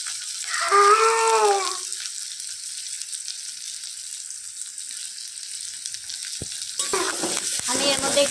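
Turmeric sizzles in hot oil with frying onions in a pan while cooking Marathi chicken, a steady close frying hiss with brief stirring scrapes, the sizzle swelling louder near the end.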